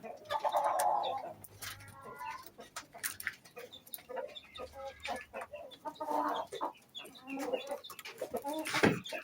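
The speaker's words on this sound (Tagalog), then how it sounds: "Ayan yung rooster natin." Breeder rooster clucking in a backyard farm, repeated close, loud clucks and short calls in irregular bursts, with other chickens faintly around.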